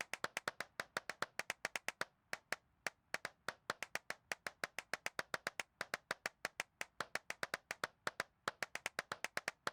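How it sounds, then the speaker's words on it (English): Brisk, sharp hand claps up close inside an abandoned church in an even, rhythmic pattern that pauses briefly now and then, no talking. "All I'm interested in hearing is clapping"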